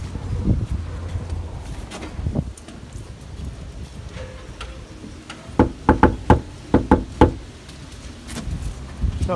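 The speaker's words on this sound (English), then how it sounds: "I'm about to knock." Knuckles rap on an apartment door: a few scattered knocks early on, then a quick cluster of sharp, loud raps near the end, over light wind noise with no talk.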